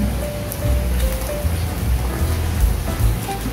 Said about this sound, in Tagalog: Maulan.